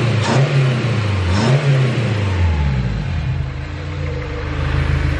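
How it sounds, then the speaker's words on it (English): Turbocharged Honda S2000 engine revving, two quick rising revs in the first couple of seconds, then settling into a steady idle with a possible knocking note, close and fairly loud. "this car has like it almost sounds like a rod knock"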